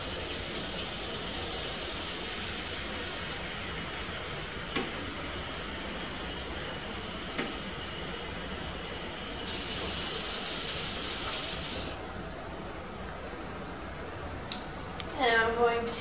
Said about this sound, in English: So I'm going to fill the basin up with water.